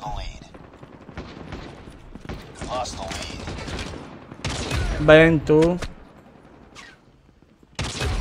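Gunfire rattles through a Call of Duty Mobile match in bursts of rapid shots, mixed with game sounds and someone talking over it, with a final loud volley at the end.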